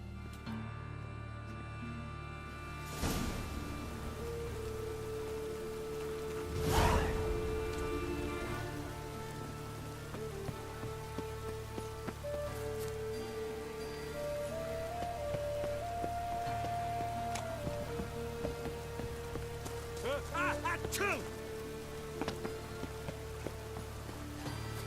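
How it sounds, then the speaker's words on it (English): Rain in The Witcher 3, set in the city of Novigrad, falls as a steady, even hiss through the streets with a soft backing of game music and no speech. "It just rains and rains."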